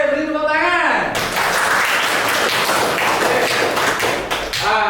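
A class of students claps in a teaching session, a dense burst of taps and thuds lasting several seconds after a voice, close and fairly loud in a room.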